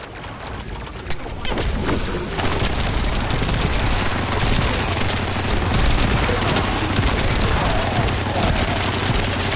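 Rapid, sustained automatic gunfire from the Python gun in the video game The First Descendant, a dense unbroken stream of shots that starts after a quieter opening second and stays loud and steady to the end.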